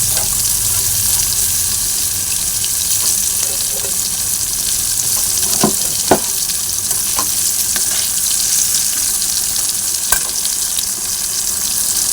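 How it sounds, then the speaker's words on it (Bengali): Loud, continuous sizzling of pointed gourd frying in hot oil, with a few scraping clinks of a spatula stirring now and then. "এই দেখো তেল গরম হয়ে গেছে আর এই যে পটল দিয়ে দিচ্ছি"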